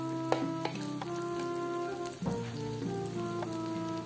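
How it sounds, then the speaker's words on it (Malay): Sautéed aromatics for chili fried rice sizzle in hot oil in a pan: a steady, close hiss of frying with a couple of light clinks and a brief stir partway through, and no talking. "Bahan tumisan pun dah naik dan pecah minyak macam tu, dah naik bau."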